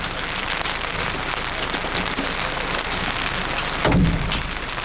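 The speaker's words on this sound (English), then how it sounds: "The noise sounds like gunfire. That's hail hitting the pavement" During a Texas tornado chase, hail pounds the pavement and a car in a dense, continuous crackling roar like gunfire, loud and close, with a brief louder burst near the end and no talking.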